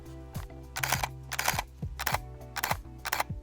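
A Nikon Z fc mirrorless camera fires its shutter repeatedly, giving about six crisp, close mechanical clicks in quick, uneven succession.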